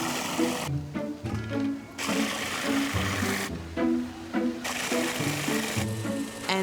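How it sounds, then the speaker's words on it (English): A food processor or grinder whirs loudly, grinding graham crackers into flour for a holiday cake bake, pulsing in repeated surges with rising and falling motor pitch. "I grind up a lot, and I mean a lot of graham crackers"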